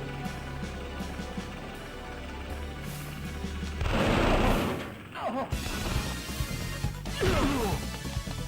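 Machine gun fire from the Sega Saturn game Elevator Action Returns, in an airport stage: bursts of rapid game gunfire and impacts over busy background music, loud and close.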